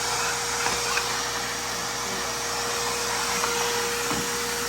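An ECOMAX 5-gallon, 4 HP stainless steel wet/dry shop vacuum runs with a loud, steady electric-motor roar and whine from start to finish, with a few faint knocks and no talking.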